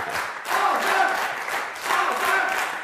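Studio audience on a live Azerbaijani TV talk show applauds a guest singer, a dense, steady wash of clapping and crowd noise swelling in two waves, fairly loud and close with no talk over it.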